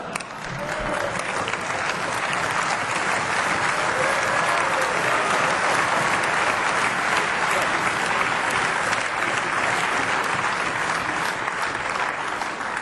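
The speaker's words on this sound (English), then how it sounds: "That's the last time you are applauding here." Sustained applause from members in the European Parliament chamber during a Brexit debate, a dense, even roar of many hands clapping that holds at steady loudness from start to finish with no speech on top.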